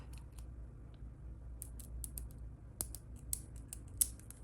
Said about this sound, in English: I just trim a little bit of the stem of the feather off.